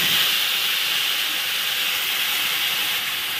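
Cumin and green chili paste hisses loudly in hot oil already spiced with cardamom, cloves and cinnamon, a steady close sizzle with no voices.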